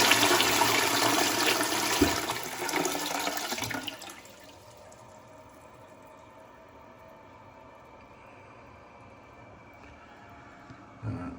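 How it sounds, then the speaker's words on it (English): Household toilet, with grey discoloured water in the pan, flushing in a loud rushing gush that cuts off after about four seconds, followed by a quiet trickle as the cistern refills. "Gonna have to give it a fair few flushes before we can even find out, really."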